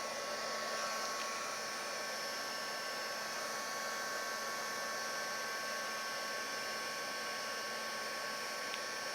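A heat gun melts embossing powder on a hammered-metal craft background, giving a steady, close, even blowing hiss with a faint whine that holds throughout with no talk.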